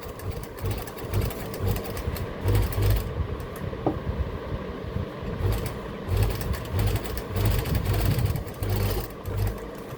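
Sewing machine stitching the hem of a kurta, a steady close mechanical whir with rhythmic needle chatter that runs in bursts and brief pauses for the full length.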